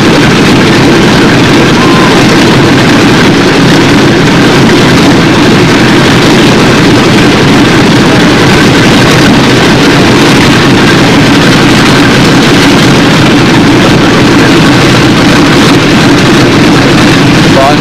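Engines of a B-17 model plane run steadily, a loud, constant buzzing drone with a strong low hum that holds unchanged throughout, close by with no clear talk.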